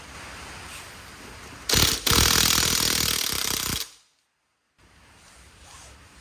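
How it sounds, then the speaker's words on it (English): A rattling impact wrench runs a lug nut off a 2005 Chevrolet Cobalt wheel in a loud burst of about two seconds, then cuts out, leaving quiet workshop ambience. "Remove all the lug nuts and remove the wheels."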